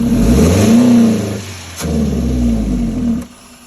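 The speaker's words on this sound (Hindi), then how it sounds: "जैसे ही मैं इसको दूँगा रेस तो गाड़ी हमारी बंद हो जाएगी" A Toyota pickup truck engine with a fault revs up loudly twice, rising and falling in pitch with a brief dip between, then cuts off near the end.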